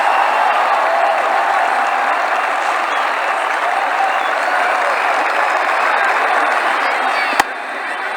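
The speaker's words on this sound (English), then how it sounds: "6 runs and the crowd are loving it" A stadium crowd in the Cricket 2009 video game roars after a six, a dense, steady wash of cheering and applause lasting several seconds, loud and continuous, with a sharp click near the end.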